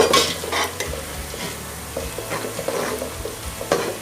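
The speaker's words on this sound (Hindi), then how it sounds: "इनको हल्का सुनहरा कर लें प्याज को" Onions fry in a pan for Pakistani chicken biryani while a spoon stirs through them. Soft sizzling runs throughout with repeated light scraping strokes, close and moderately quiet, and no one speaks.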